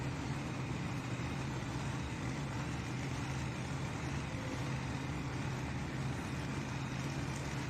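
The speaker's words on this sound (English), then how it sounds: "Going to give it a little bit more fuel here." A pulling tractor's engine revs hard at a truck and tractor pull at the NC State Fair in Raleigh. It gives a loud, steady, dense roar that holds without a break.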